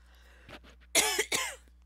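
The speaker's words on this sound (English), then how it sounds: "God, why do I keep coughing?" Two or three harsh coughs close by, preceded by a faint throat sound, then quiet.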